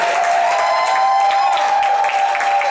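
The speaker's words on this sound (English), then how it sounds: "Let's clap our hands for the fragrance of this house" A church congregation claps for several seconds, a continuous, fairly loud wash of hands with a faint steady tone running beneath it and no speech on top.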